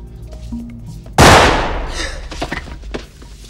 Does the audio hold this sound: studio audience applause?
no